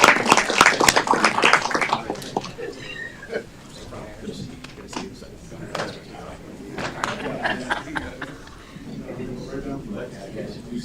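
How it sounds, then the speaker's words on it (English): An audience applauds at a city council meeting for newly joined or reappointed board members: clapping and crowd chatter swell loudly at the start, then fade into murmuring voices and scattered claps while people talk. "Give another round of applause."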